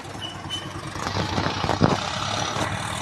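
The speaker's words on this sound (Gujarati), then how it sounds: "તો ગાઈસ આપણે સિમેન્ટનું ટ્રેક્ટર આવી ગયું છે." A cement-carrying tractor at a house construction site, its engine chugging steadily at close range with a low rumble that swells slightly as it arrives, no talk over it.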